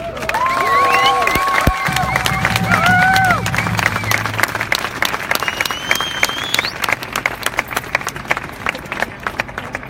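A crowd at an Amsterdam protest against sending Afghans back bursts into loud, sustained clapping, with shouts and whoops rising over it at the start before the applause carries on alone.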